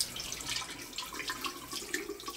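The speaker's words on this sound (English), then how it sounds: "Twisting the faucet in this bathroom" Tap water pours steadily from a faucet in a hotel bathroom in Chiba Prefecture near Tokyo, a continuous close, bright splashing hiss with no voices over it.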